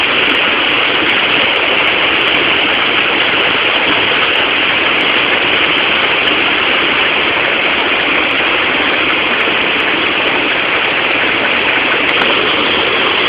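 The Majayjay waterfall in Laguna roars as a loud, unbroken rush of falling water, close and steady with no pauses.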